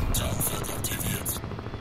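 A helicopter in the video game Crysis 2 gives a steady rotor thrum with rhythmic higher pulses at close to moderate range, and game sounds mix in.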